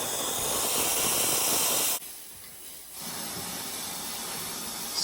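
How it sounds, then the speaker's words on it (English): Loud, steady steam hiss from a new Accucraft RC live steam Shay locomotive blowing down. It stops abruptly for about a second, then resumes strongly to the end. "Got a nice blow down."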